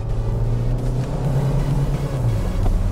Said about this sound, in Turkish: Tekrar gaza asılıyorum. Gayet çekişi kuvvetli bir araç olmuş.